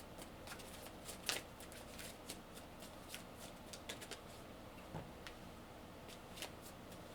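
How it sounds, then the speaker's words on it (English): Tarot cards are shuffled and drawn from the deck in a quick run of papery riffles and flicks, close and fairly soft, with one sharper snap early on and no voices. "Let's pull some more cards."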